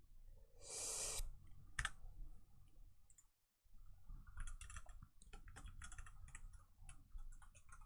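Rapid typing on a computer keyboard during a game development session, a steady flurry of close clicks and taps with a brief pause midway and a louder burst near the start.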